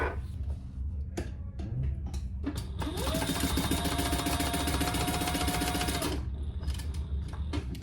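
A sewing machine runs a line of stitches along the bottom of a sling's fabric, with short bursts before a sustained steady whirring run of about three seconds, then clicking stops and starts close by.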